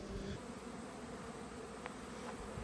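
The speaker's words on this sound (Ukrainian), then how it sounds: "Бджілки активно літають, обльотуються." Honey bees buzz as they fly around hives at an apiary, a soft, continuous drone heard from close by, with a few individual bees passing nearer.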